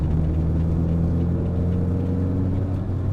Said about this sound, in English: we have extra noises from the exhaust because it is not stock